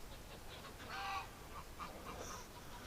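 Geese honk near a barnyard pen on a winter day, giving a few scattered calls over steady outdoor background noise.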